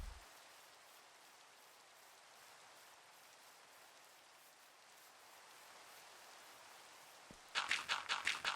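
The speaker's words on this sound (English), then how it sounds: "We've been having a lot of rain on the server lately." Rain falling in Minecraft, a soft continuous hiss at low volume throughout, ending with a burst of louder rhythmic rustling.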